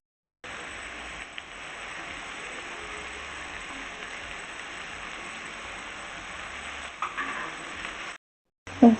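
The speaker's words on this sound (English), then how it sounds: "give the onions time to cook until they start becoming golden brown" Onions frying in a pan for vegetable rice, a steady close sizzle that runs evenly for several seconds before cutting out briefly near the end.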